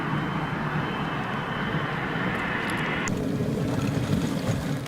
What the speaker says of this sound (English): The airplane wing looked like it was painting clouds across the sky.